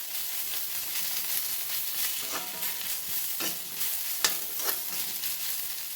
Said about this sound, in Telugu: ఇప్పుడు దీన్ని ఆయిల్లో ఫ్రై చేసేసుకుందాము.